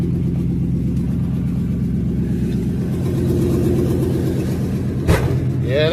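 A truck engine idles with a steady, loud low rumble that rises slightly partway through, with a sharp click near the end.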